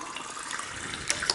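Water poured over cleaned sea moss in a glass jar, a steady close trickle and splash lasting about a second with a couple of brighter splashes near the end.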